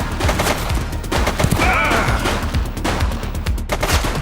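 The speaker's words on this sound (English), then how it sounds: "She's shooting!" Gunfire from a suspect in the police game The Precinct: rapid repeated shots in quick bursts, loud and close, over a busy background with a brief higher whine midway.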